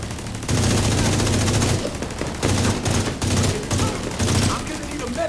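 Heavy turret gunfire in Far Cry Primal rattles out in loud sustained bursts separated by short pauses, with some game noise between volleys and no one speaking.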